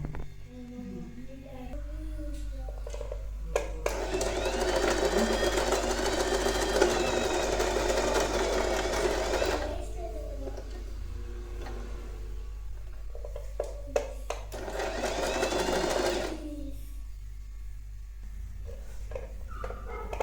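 A sewing machine stitches royal blue lehenga saree pieces in two runs, a long one of about six seconds and a shorter one later. Its rapid whirring rises over a constant low hum, with quieter pauses in between.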